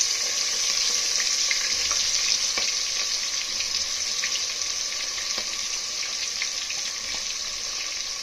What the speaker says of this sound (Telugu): వీటిని బాగా దోరగా వేయించాలి.